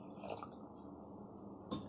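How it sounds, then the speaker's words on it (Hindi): Water is poured into a pressure cooker holding kidney beans for homemade rajma, a steady, close, wet pouring and sloshing that runs for about two seconds and swells briefly near the end. "ये हम इसमें पानी डालेंगे।"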